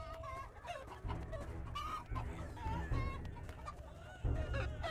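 Clucking chicken-man unit in Totally Accurate Battle Simulator, a steady run of bird-like clucks and squawks over a dense, continuous battle din, loud and busy throughout.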